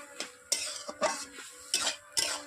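Greens with fish oil stirred in a cooking pot for a Bengali shak chorchori, heard as a series of scraping, clinking strokes of a spatula against the pot, about five distinct stirs with short pauses between, close and fairly quiet.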